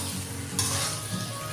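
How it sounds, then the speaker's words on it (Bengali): Pre-fried young jackfruit and potato are stirred into a well-cooked spice paste for a vegetarian Bengali kalia, giving a soft continuous sizzle with one brief louder scrape near the pan, and no talking. "এখন এইরকম মশলার সঙ্গে 1 মিনিট মতো মিশিয়ে দিয়ে আমি কষিয়ে নিচ্ছি।"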